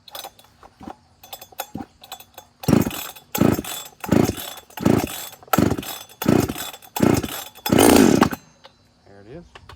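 A ported Husqvarna 266XP chainsaw with choke and throttle lock set is pull-started again and again, each pull a loud rasping burst in an even rhythm of about eight pulls, with brief faint sputters between them.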